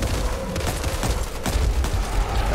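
Rapid bursts of gunfire from the zombie shooter Back 4 Blood, a dense fusillade of shots and booms sounding close and loud throughout, with no talk over it.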